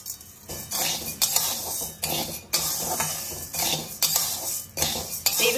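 Dry whole kalai lentils are stirred in a hot kadai, and a metal spoon scrapes and rattles them against the pan in repeated loud sweeping strokes with gritty clinks.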